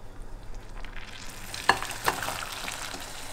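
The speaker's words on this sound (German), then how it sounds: "Jetzt werde ich erstmal das abgießen." Liquid is poured off apple peels that were simmered for ten minutes, making a soft, rushing splash that swells midway, with a couple of small clinks.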